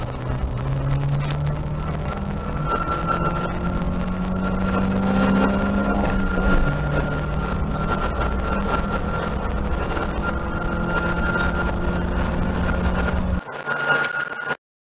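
A lifted Ford Econoline van on stock tires accelerates from inside the cab, with a steady, loud engine drone holding for about thirteen seconds before it drops away near the end.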